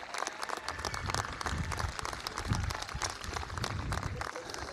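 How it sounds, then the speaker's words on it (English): Applause from a graduation audience at a high school ceremony, broad and steady throughout with crowd noise mixed in, fairly distant in a large space. "Please, let's give them all a round of applause."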